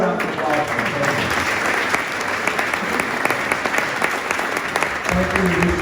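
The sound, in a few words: audience applause for Antonio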